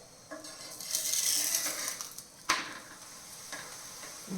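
Thepla flatbread made with bottle gourd is roasted and pressed on a griddle over medium heat, giving soft sizzling, scraping and stirring noises with a sharp metallic tap midway.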